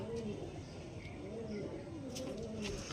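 Andhra Mangalagiri pigeons coo in a low, repeated rolling rhythm, with steady background noise and occasional brighter chirps over it.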